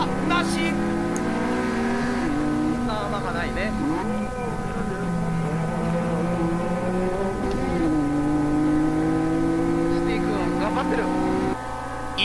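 Naturally aspirated racing cars, a Honda NSX among them, scream around a track with rising and falling engine pitches as they shift gears, loud and continuous, while a person talks over them.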